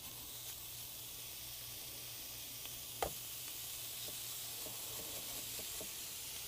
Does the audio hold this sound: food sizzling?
yes